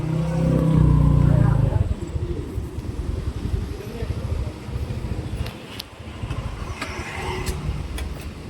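A car pulls into a parking spot at a Kolhapuri misal eatery, with a loud engine rumble at first that drops to a steady low idle and road noise. Voices talk over it.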